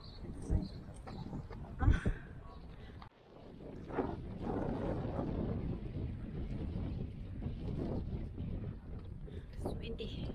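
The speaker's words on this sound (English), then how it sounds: "It's windy." Wind gusting around a microphone outdoors in a Norwegian coastal town, a steady low roar and buffeting that swells midway, with voices faintly in the background.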